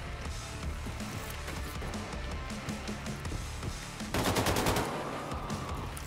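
Gunfire in the video game Wolfenstein II: The New Colossus: dense, continuous loud shooting with a sharp automatic burst of rapid shots near the end, layered over game noise.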